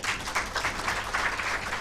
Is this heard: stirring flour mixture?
no